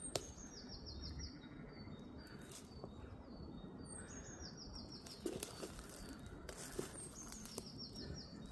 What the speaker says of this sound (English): I don't know if you can hear birds on camera, but absolutely superb sounds.